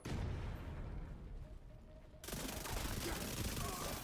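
Rapid submachine-gun fire in The Division 2 video game rattles continuously and loudly, jumping to a denser, brighter burst about halfway through.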